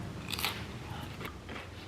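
Grain-free tortilla chip topped with tuna crunched in a few close, crisp bites over a couple of seconds, no talking.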